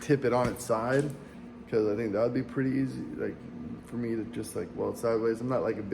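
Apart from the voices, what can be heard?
None of the usual background noises is heard.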